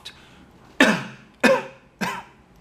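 Three sharp coughs come one after another at even spacing, each a short, harsh burst with a quick fade, made by a voice imitating sick birds coughing.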